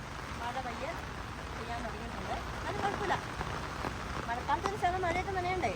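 Soft, steady rain patters in the background while a person speaks over it, the hiss staying even and fairly quiet throughout.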